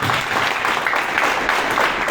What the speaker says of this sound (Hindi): मैं चाहता हूँ जोरदार तालियां दे रहेंगे।